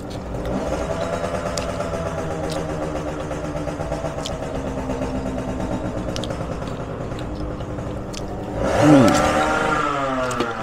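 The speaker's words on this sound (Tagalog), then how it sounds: "Ang ingay nung nung motor." Loud, continuous engine drone from a nearby motorcycle idling and running, with a brief rise in revving near the end.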